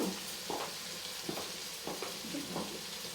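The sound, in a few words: food steaming and frying in a pan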